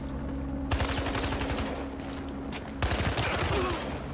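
Bursts of hip-fired automatic gunfire in the Battlefield Hardline video game, two sustained rapid volleys of loud cracking shots separated by a short pause.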